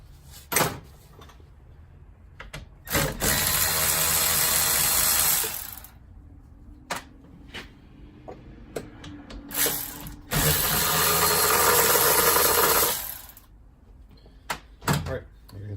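A hand ratchet with a long extension works screws loose on a Kawasaki KT17 engine: sharp clicks and pawl rattles interspersed with two longer bursts of continuous ratcheting, close up, with no talking.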